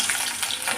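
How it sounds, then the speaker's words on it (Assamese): Garlic dropped into hot oil left over from frying dried fish gives off a steady bright sizzle throughout. "সেইখিনি তেলতে মই এতিয়া নহৰুখিনি দি দিছোঁ"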